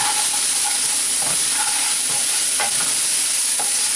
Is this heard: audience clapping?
no